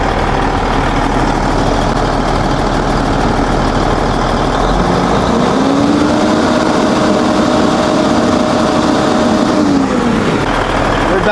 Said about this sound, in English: We'll rev it up, make sure.